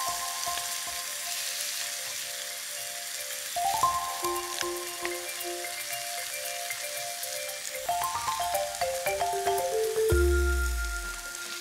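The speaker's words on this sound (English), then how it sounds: "So wait for a good sizzle." Chicken pieces browning in a hot pan for a casserole give off a steady, close sizzling hiss. It runs through the whole stretch with light tonal music underneath and no talk.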